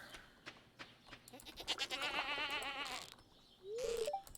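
A goat in the video game Stardew Valley gives a couple of short, nasal bleats, the first wavering for about a second and the second brief and rising, over quiet game sounds and soft clicks.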